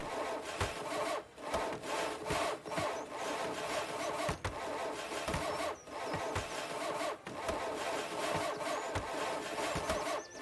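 A manual saw at work on a boat in the Viking village-building game Land of the Vikings: a steady, loud grinding rasp broken by repeated sharp knocks and sputters, like an engine cranking, with no voices.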